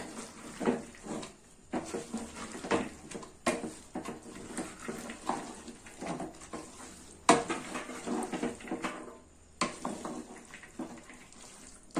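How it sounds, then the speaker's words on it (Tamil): Mixed masala lentils (pidukam paruppu) are stirred in a cooking pot, with irregular metal clinks and scrapes of a spoon against the pot coming in quick, uneven bursts close by. "இதை சேர்த்து நல்லா கலந்து விடுங்க"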